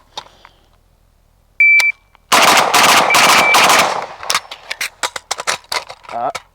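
Rapid strings of gunfire from a WASR 10/63 rifle in a heavy irons competition setup, loud and close, with a short electronic beep before the volley and scattered single shots and clatter afterward.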